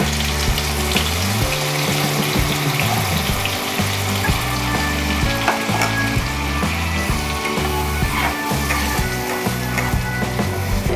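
Coconut and poppy seed paste with a little chili powder is frying in a pan for a prawn dish, giving a steady, moderately loud sizzle throughout with no one speaking.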